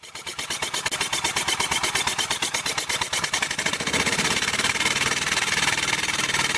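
A model steam engine running on compressed air chuffs in a quick, even rhythm close by, its puffing growing faster and louder as more air pressure is applied.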